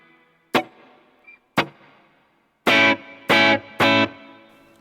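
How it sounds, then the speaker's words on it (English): An electric guitar with a slight reverb and delay setting, struck in five distortion-heavy chord hits: two short stabs, then three sustained ones, each trailing off with a faint echo. "You can hear it when I strike the guitar."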